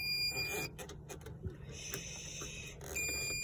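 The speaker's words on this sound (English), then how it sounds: "this thing won't stop beeping" A Renogy DC-to-DC charger in a Toyota Sienna camper's electrical setup gives off high, thin electronic beeps that come and go over a low background hum.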